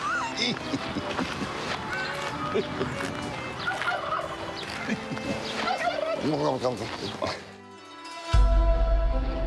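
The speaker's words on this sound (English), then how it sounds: "I love these turkeys, they make me laugh so much" Turkeys gobble repeatedly in a busy, noisy outdoor scene, their warbling calls overlapping with voices before a sudden drop and a low rumble.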